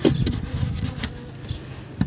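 Honey bees with Welsh black ancestry buzz loudly and close, a steady droning hum with a few brief bumps and flutters as they move about.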